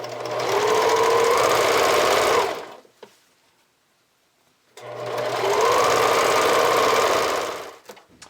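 A sewing machine stitches bralette band elastic in two loud, steady runs of rapid mechanical whirring, each about two and a half seconds long, separated by a short quiet pause.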